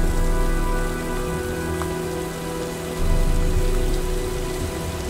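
Heavy storm rain in the video game Heavy Rain, a dense, steady downpour on surfaces with a low tonal hum beneath, loud and continuous with no voices.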